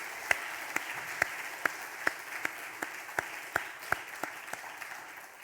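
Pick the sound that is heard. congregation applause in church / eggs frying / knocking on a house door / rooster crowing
congregation applause in church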